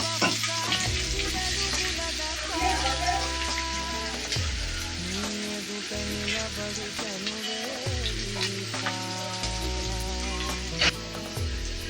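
Onions with green chillies fry in a pan with a loud, continuous crackling sizzle, punctuated by repeated scraping stir strokes throughout, and no talking.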